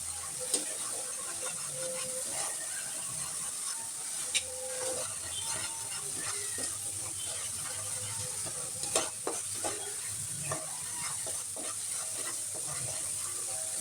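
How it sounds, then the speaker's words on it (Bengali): A spice paste with cumin and salt fries in oil, hissing steadily up close while a spoon stirs and scrapes at irregular intervals, with sharp clicks and spatters scattered throughout. "তেল ছেড়ে আসা পর্যন্ত মশলাটা কষিয়ে নিচ্ছি"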